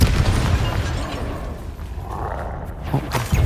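A Bombarda spell blasts in Hogwarts Legacy amid combat, a loud, rumbling explosive boom with crackling debris that swells and fades, followed by further impacts near the end, close and heavy with no clear speech.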